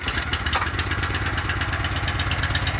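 A small engine, started with the choke on and the throttle at about half, runs in a fast, steady, close-up putter with a rough pulsing rhythm and no voices.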